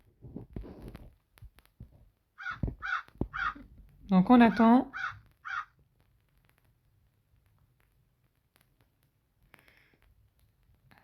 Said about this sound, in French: Et après, il va apparaître là, le corbeau.